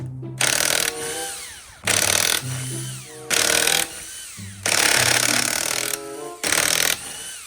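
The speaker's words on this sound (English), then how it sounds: "take big old trusty drill and shit, you know what I'm saying, and take these wheels off" A power drill removes wheel lug nuts on a Chrysler 300C, whirring in loud, close bursts, revving up and stopping about five times in a stop-start rhythm.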